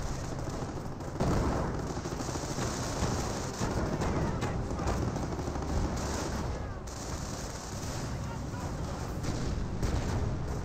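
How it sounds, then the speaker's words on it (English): Anti-tank gun shots ring out amid dense, continuous battle noise of gunfire and explosions in Company of Heroes, with commentary talk faintly beneath. "AT gun takes some shots"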